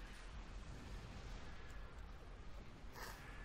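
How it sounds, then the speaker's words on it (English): A destabilizing proton cannon fires in Star Trek Online, giving off a steady low booming rumble of energy blasts with a brighter crackling burst near the end, heard fairly faint throughout. "here's the destabilizing proton cannon thingy"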